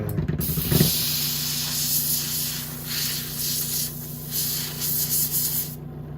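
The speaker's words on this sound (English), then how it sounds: "Now let's use the compressor. And let's shoot out." Compressed air hisses in long, loud blasts from an air compressor nozzle while cleaning a Commodore Amiga 2000 board after Varta battery removal, with the hiss fluctuating in short pulses and cutting off near the end.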